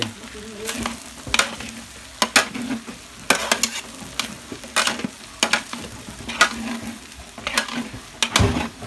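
Fried rice with Chinese sausage being stir-fried in a large wok: sizzling under repeated sharp scrapes and clanks of a spatula against the metal in an irregular rhythm, close and loud.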